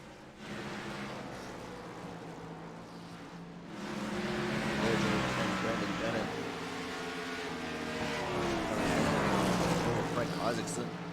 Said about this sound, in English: You should actually be able to hear the cars a little bit.